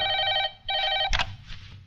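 An old-style telephone bell rings in two loud bursts with a short gap, followed by a clunk as the receiver is lifted, in an indoor dramatic scene.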